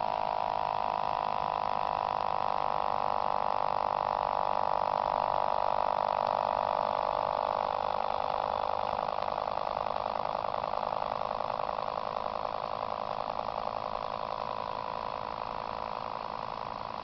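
Muller dynamo generator rotor spinning back up after a coil shorting test, giving a steady, continuous mid-pitched whirring hum with a faint pump-like tone, alone and unbroken throughout.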